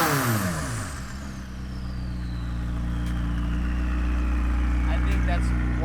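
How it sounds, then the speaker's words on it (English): A McLaren 600LT fitted with new downpipes revs up and down, its exhaust rising in pitch, then falling back to a steady, loud idle rumble close by. "We're gonna rev it and let us see how this beauty sounds."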